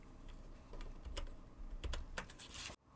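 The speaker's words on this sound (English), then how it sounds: "pressing the delete key on my keyboard" Computer keyboard keys tapped in a short burst, including the delete key, close and fairly quiet in a quiet room, with several distinct clicks and a final sharper press.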